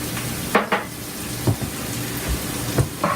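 Beef crumbles fry in a pan for curry, a steady close sizzle with a few soft scraping and stirring clatters of a utensil against the pan, and no talking.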